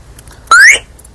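A single bright electronic chirp rising in pitch, lasting about a quarter second, clear and close against a quiet background, from a Kuba RX9 motorcycle alarm remote arming the alarm.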